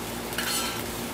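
Fried rice gets scraped and pushed against the wall of a high-sided pan, a short, close metallic scrape and rustle over a low background sizzle.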